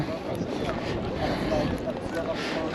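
Strong wind outdoors in Amsterdam, a steady loud rush and buffeting against the microphone with a voice speaking underneath.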